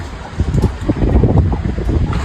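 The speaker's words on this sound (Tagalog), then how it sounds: "Lakas po ng hangin." Strong, cold wind gusts outdoors, buffeting the microphone with loud, rumbling roars and rustling that swell and ease over a couple of seconds.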